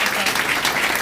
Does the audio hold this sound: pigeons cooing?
no